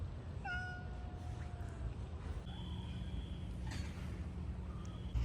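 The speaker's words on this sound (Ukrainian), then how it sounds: "Та тут ціла котикова двіжуха. Тут дуже багато котиків." A cat among many cats in Japan meows several times, drawn-out and fairly clear, over a steady low background hum.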